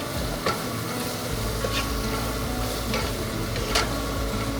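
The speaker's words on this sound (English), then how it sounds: "I'm gonna give that a stir." Seasoned food sizzling in a frying pan while being stirred, a constant close hiss of frying broken by a few sharp scraping strokes of the utensil, with no speech.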